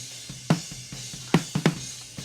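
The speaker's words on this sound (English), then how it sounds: "This is what the raw organic snare drums sound like." Raw, unprocessed snare drum from a 2015 song recording, a few sharp close hits at an uneven rhythm over a steady low hum.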